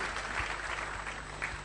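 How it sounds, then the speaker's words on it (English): Audience applause at a business conference, a steady wash of clapping from a crowd that fills the short moment at moderate level with no voices over it. "So please give a big round of applause to Ashish."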